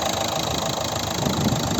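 A 2011 Renault Megane III with a 1.5 dCi 110-horsepower diesel engine idles in a steady, even rumble with a slight knocking texture, close and continuous throughout.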